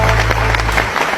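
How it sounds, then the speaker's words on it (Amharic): Studio audience applauding at an Ethiopian television comedy show, a dense steady wash of clapping with a low hum underneath, filling the short stretch at an even level. "እዚህ ተመልካቹም በጣም ነው የሚወድ፣ እያጨበጨበ ነው ላንተ"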